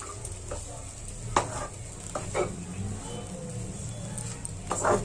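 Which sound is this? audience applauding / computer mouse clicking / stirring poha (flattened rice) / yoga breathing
stirring poha (flattened rice)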